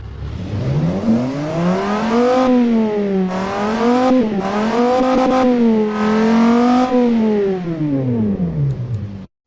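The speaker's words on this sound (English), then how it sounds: "get to hear this engine right now" Donk truck engine in a driving video game with dual exhaust, a baffled second muffler and no first muffler, revving in long rising and falling sweeps, loud and close, several throttle blips across the run with no talk.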